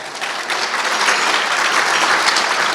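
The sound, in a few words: audience applause at a gala dinner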